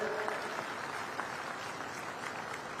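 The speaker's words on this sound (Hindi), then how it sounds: "एक बार जोरदार ताली बजा के उनका स्वागत करें" A crowd at a women's empowerment conference in Bhilai applauds to welcome a guest, with steady, fairly faint clapping throughout and a faint voice briefly audible at the start.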